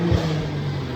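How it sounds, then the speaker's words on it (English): A BMW M2 CS fitted with a dyno exhaust drones in a loud, steady engine note heard close up for a moment, with no speech over it. "now that Darryl has a dyno exhaust on here, it actually sounds like a true BMW race car."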